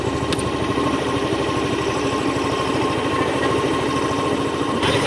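A motorcycle engine idles steadily throughout, a continuous low throbbing pulse at close range, heard outdoors at night in a village with no talk over it.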